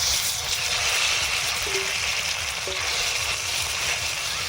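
Nigella seeds frying in mustard oil in a wok give a steady, even sizzle that runs unbroken throughout, close and moderately loud, with a couple of faint short tones over it.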